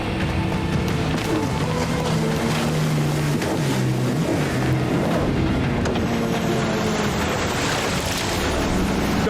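A cartoon motorboat engine roars continuously through a chase, loud and close with shifting pitch, alone without speech.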